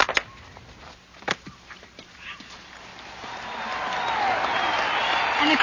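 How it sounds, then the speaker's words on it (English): A football game crowd, starting with sparse claps and scattered noises and then swelling into a growing roar of cheering and applause. "And the crowd's going wild."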